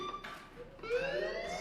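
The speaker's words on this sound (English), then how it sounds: "Hey, do you hear that fire alarm?" A fire alarm in the Life is Strange game rings as a steady electronic tone, fairly loud and continuous over a faint ambient background.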